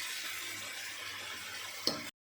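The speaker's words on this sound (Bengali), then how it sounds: "এই ম্যারিনেট মাংসটা কড়াইতে দিয়ে দিলাম, এবার আমি কষাবো" Marinated chicken pieces sauté in a hot kadai, with a steady close hiss of sizzling oil and a single knock near the end before it cuts off.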